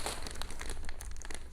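Plastic wrapping on an online-ordered package crinkles and crackles as it is opened, a busy run of close, loud rustles and small tearing bursts with no talking.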